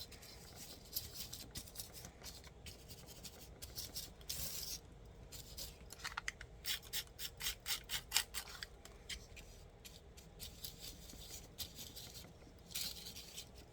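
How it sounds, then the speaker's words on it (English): Foil being scraped by hand for artist trading card scrapings, a run of close, quiet rasping scratches in quick repeated strokes with brief pauses, no talking. "No, we're just gonna scrape this. We're gonna use the scrapings."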